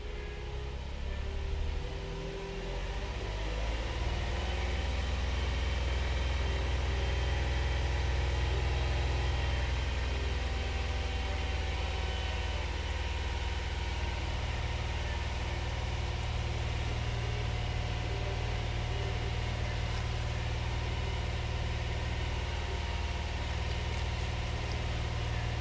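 A 2022 Hyundai Palisade engine holds a steady 2000 RPM, a constant, fairly loud hum with a deep low drone that rises slightly at the start and then stays even.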